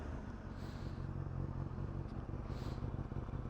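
A 2010 Honda CBR600RR PC40 inline-four sport bike with a Yoshimura RS5 exhaust runs steadily nearby, a loud, even, throaty rumble with no voices.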